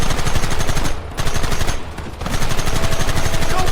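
Rapid automatic gunfire in a Red Dead Redemption shootout, loud and dense, with two brief gaps before the bursts resume and continue steadily to the end.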